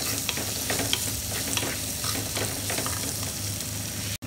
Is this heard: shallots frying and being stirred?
yes